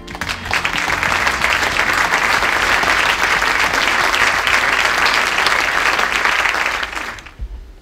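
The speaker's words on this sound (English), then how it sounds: "Please give a round of applause for him now." An audience gives Stephen Covey sustained, dense applause, loud and even throughout before fading out at the end, at a corporate excellence event.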